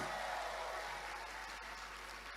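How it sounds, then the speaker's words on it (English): Applause for awardees at an event in Ghana, a steady, soft wash of many hands clapping at a distance, fading slightly toward the end. "Can I hear a thunderous round of applause from all"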